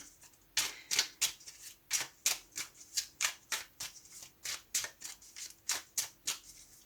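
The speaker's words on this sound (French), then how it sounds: "je vais mélanger comme il faut, je vais couper et je vais tirer les cartes" Tarot deck being shuffled and cut by hand, a close, crisp series of riffling card flicks repeating in an even rhythm about twice a second, quiet and alone with no talk.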